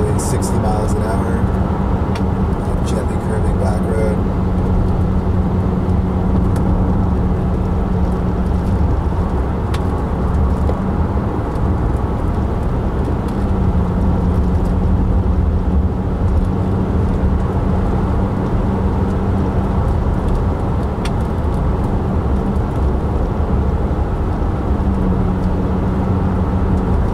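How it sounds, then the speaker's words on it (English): A 1996 Volvo 850 cruises at nearly 60 mph, steady loud road and engine drone with a low hum filling the cabin, someone talking over it throughout. "Right now we're going nearly 60 miles an hour."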